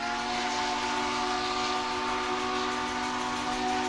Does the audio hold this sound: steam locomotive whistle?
yes